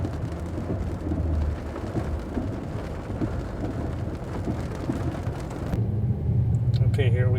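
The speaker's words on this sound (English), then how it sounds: "this rain just started really fast." Sudden rain in Ulaanbaatar hisses steadily in a thick, continuous wash, with low rumbling that could be thunder or passing traffic underneath. The level swells slightly near the end.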